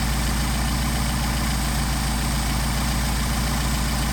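A Mercedes 190SL engine with Solex carburetors idles steadily during carburetor adjustment, a continuous low, even mechanical rumble held close and loud throughout with no talking.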